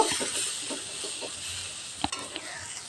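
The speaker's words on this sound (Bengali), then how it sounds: "কিছু ফুলকপির টুকরো অ্যাড করে ভেজে নেব" Cauliflower pieces fry in salted hot oil in a kadai with a soft, even sizzle, broken by a few sharp clicks of a spatula near the end.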